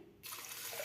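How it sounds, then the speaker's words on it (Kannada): Water gushes into a cooking pot of sliced vegetables for matki curry, a close, steady pouring rush that begins abruptly and runs on without speech. "ಇದನ್ನು ಮುಳುಗೋವಷ್ಟು ನೀರು ಹಾಕಿ ಬೇಯಿಸ್ಕೊಳ್ಳೋಣ ಇವಾಗ"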